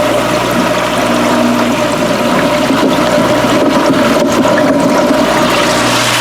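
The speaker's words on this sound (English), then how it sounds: "So I've got the air pump running in here." An aquarium air pump feeding a 9-inch air stone in an aquaponics tank runs with constant loud bubbling and gurgling water over a low steady hum, with no voices.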